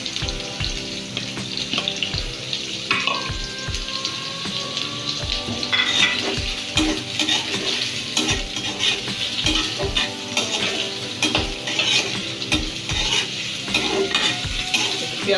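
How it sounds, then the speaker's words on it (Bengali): Cut potatoes fry in a pan for a fish curry with eggplant and tomato, giving a steady sizzle punctuated by regular clinks and scrapes of a spatula stirring against the pan. "এখানে আমি একটা আলু কেটে ভেজে রাখছি।"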